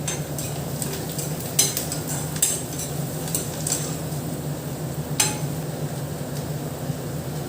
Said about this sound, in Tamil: பெரிய வெங்காயம் கருவேப்பிலை சேர்த்து நல்லா வதக்கிக்கலாம்.